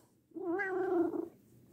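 A single drawn-out cat vocalization, a short wavering meow-like moan close to the microphone, rising and falling over about a second against a quiet background.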